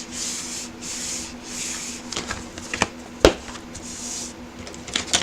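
Folded paper for a mini album template is burnished and pressed by hand on a work surface, giving soft continuous rubbing swishes followed by a few sharp creasing taps and clicks, fairly quiet and close.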